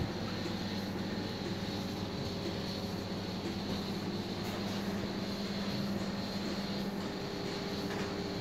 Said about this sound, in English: There's a milk cart rattling behind me